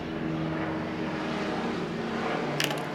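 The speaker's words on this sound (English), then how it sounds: "Sound like the Lifeline helicopter just flew by." A Lifeline medical helicopter flies overhead, a steady broad rumble with a low rotor hum that holds throughout, close and fairly loud.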